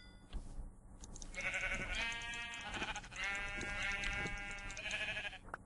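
Sheep in the video game Minecraft bleat in a run of wavering, nasal calls. They are loud and close, with no talk over them.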